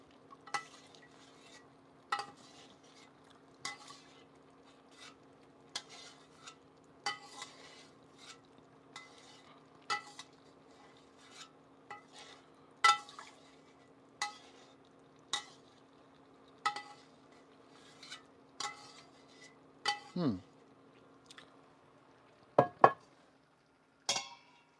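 A spoon scrapes boiled beans out and stirs them in a pot, giving regular scraping strokes about every second or so, close and fairly quiet, with a few clinks near the end and no talking.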